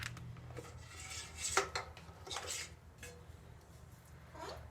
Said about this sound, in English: You can see what's inside as I take the lid off